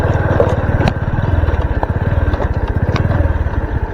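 A motorcycle on a rural farm path putters with a rapid, regular engine pulse and occasional clattering knocks, close and loud, as it runs toward a hut in the fields.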